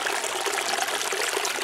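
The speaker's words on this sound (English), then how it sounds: "I like everything that comes down this waterfall here and drops into this pocket." Small waterfall of stream water at Crater of Diamonds State Park in Arkansas, dropping into a pocket below, making a steady close splashing rush that runs without a break.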